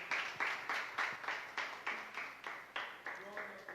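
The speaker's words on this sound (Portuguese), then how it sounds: "receba o servo de Deus com palmas para Jesus" A church congregation claps in a steady, even rhythm, around four sharp claps per second, heard faintly and from some distance.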